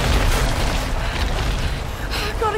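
Big explosion in the jungle setting of the video game Tomb Raider: a loud, low, rumbling boom that stays heavy and sustained across the whole stretch, with crackling debris layered over it.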